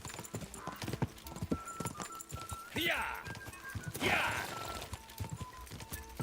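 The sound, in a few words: horse bucking in Kingdom Come: Deliverance 2 video game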